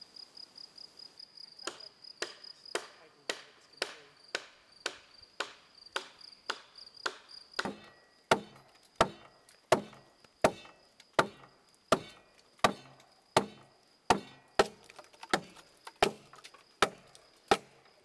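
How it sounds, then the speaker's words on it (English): A traditional carpenter's axe trims a wooden beam in steady, rhythmic chops, at first lighter and quicker, then heavier, sharper strikes roughly every half second, with insects chirring faintly behind. "I found it easier just doing it with this traditional carpenter's axe."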